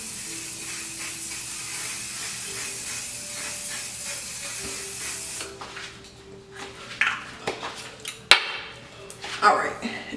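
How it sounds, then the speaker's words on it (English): One Size Beauty On Till Dawn setting spray releases a steady, fine hiss for several seconds, then stops, followed by scattered handling clicks and soft rustles. "to seal everything, I'm gonna use the One Size Beauty. What is this? The On Till Dawn setting spray."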